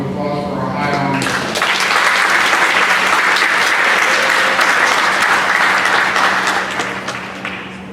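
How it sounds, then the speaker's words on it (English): Sustained, dense applause from a large audience honoring top-ranked students at a senior awards assembly, swelling quickly after a brief spoken announcement and holding steady for several seconds before tapering off. "Another round of applause for our high honors."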